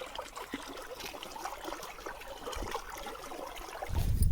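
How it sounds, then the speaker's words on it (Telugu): Irrigation water trickles and flows steadily along rows of okra plants in a farm field, a continuous close wash of running water that swells louder toward the end. "చూడండి బెండ చెట్లకి నీళ్ళు ఎలా వెళ్తున్నాయో"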